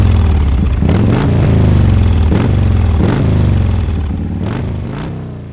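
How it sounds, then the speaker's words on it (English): A motorbike engine revs hard and loud up close, rising and falling in several throaty surges with a rattling clatter. "The roar of a revving motorbike."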